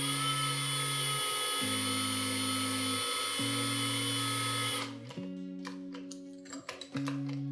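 Power drill with its chuck gripping the ends of wire, slowly twisting it to make model trees; a steady whining motor hum shifts pitch in steps, then cuts to quieter rattling and a brief restart, close up with no talking.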